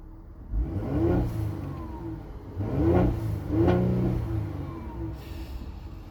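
A 3.0-liter twin-turbo V6 in a Mercedes-Benz GLE 43 AMG revs up three times, rising and falling in pitch over a steady idle, close and alone.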